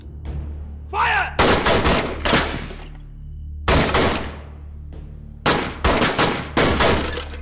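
Gunfire in a war film battle scene set during the Chittagong uprising: loud, close bursts of rapid shots in clustered volleys, separated by brief lulls, with a faint shout early on.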